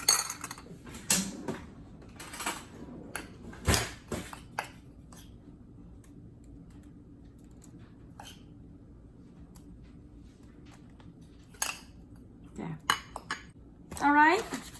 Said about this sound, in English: I just need to sprinkle my crumble topping on my batter. Using a spoon is easier.